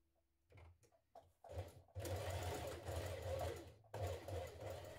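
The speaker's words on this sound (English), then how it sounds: "So stitch that seam first of all." A sewing machine stitches a seam on stretchy underwear fabric, starting with a few short bursts and then running in a steady, close, loud whir that pauses briefly before resuming.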